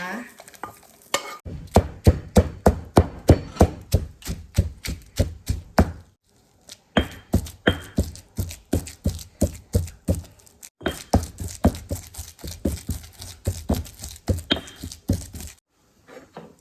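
Roasted garlic and chilies being pounded in a mortar: a long series of sharp, rhythmic thuds at a brisk steady pace, close and clear, with two short pauses before the pounding resumes.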